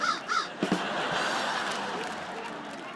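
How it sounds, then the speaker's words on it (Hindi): Two quick crow caws ring out at the start, then a dense noisy background with muffled voices fills the rest. "डिजिटल कौवा।"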